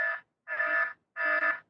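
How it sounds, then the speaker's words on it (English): An alarm clock going off at 5 a.m. with a pulsating, buzzing drone: three loud, close bursts separated by short gaps, with no other sound. "the pulsating drone of my alarm rouses me into a semi-conscious,"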